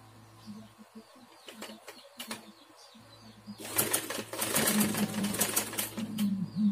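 Sewing machine stitching a kebaya sleeve hem, a dense burst of rapid mechanical stitching starting partway through after quieter handling noises, fairly close and steady.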